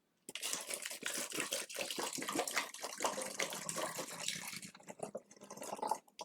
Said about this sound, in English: the next thing I'm going to do now is to add water to it